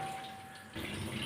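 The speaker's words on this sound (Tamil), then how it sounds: "நம்ம வந்து கொஞ்சம் குழா வந்து கொஞ்சமாக திறந்து வச்சுக்கணும்." Water runs steadily from a kitchen tap opened partway while dishes are washed, a close, continuous hissing flow that gets a little stronger partway through, with no talking.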